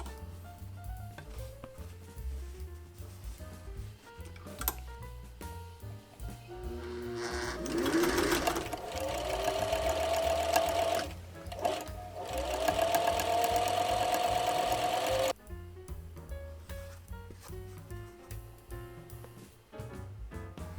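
A sewing machine runs in steady bursts while top stitching the brim of a visor hat, using heavy top stitching thread in the bobbin and regular thread in the needle; the whirring rises and pauses, close and fairly loud, with no talking.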